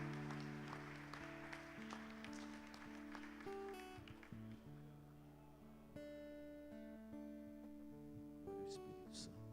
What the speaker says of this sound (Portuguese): adorar o Senhor com as nossas palmas.